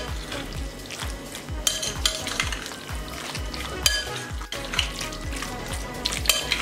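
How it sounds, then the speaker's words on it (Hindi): Chicken being mixed with ground coriander, turmeric and salt for a shawarma marinade gives a wet, squelching stir with regular rhythmic sloshes and a few utensil clinks, close and steady, with no voices. "अब इसको अच्छे से मिक्स कर लेंगे।"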